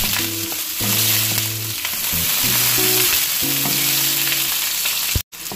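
Onions frying in about three spoonfuls of hot cooking oil for pansit Kapampangan, a close, loud and continuous sizzle with some stirring that cuts off abruptly near the end.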